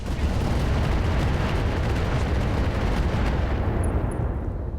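Weapons firing on a Victor mech in the RogueTech video game: a dense, continuous barrage of gunfire and explosions forming a loud, steady roar that stays constant throughout.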